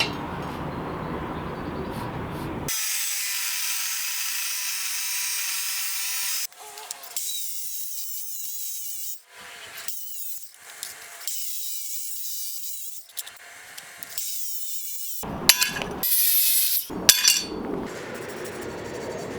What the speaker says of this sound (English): As my cutoff blade is wearing down, I'm raising up my workpiece with this 2x4.